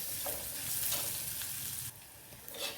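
Chopped onions with asafoetida sauté in a pan for a rasam, a soft steady sizzle with faint stirring scrapes, quiet and close with no voices.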